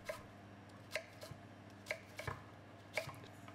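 A knife chops celery into small cubes on a cutting board for braised beef, giving sharp, evenly spaced taps about once a second. The chopping is faint and close, with quiet room tone between strokes.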